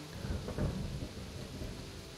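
Thunder rumbles through steady rainfall in the video game Kingdom Come: Deliverance, a low rolling boom swelling briefly over continuous hiss of rain.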